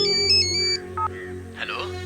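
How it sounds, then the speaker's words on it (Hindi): A mobile phone ringtone, an incoming call from mother, plays a bright repeating melody near and clear for about a second, then breaks off as a voice speaks. "माँ फोन।"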